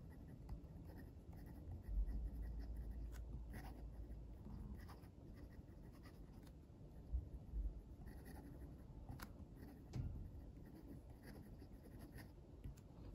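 A Keyzor rollerball pen glides across smooth Clairefontaine paper in a long, faint, steady scratch of everyday handwriting, with a few soft taps and pauses between strokes.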